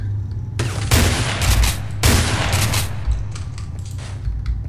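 Gunfire in the video game Underhell: loud, sharp bursts of shots crack in rapid clusters close by, with brief pauses between volleys and lingering mechanical rattles and low booms underneath.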